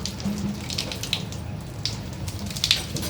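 Steady light patter of rain with a few sharper drops plinking into collected water, soft and continuous.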